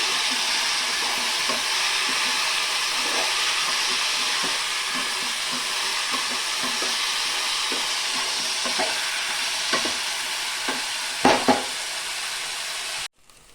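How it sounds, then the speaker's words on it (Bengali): Washed rice fries in a pan for a vegetable khichuri, giving a continuous hissing sizzle with light stirring taps near the end before it cuts off. "আমার চালটা দিয়েও ভেজে দেব।"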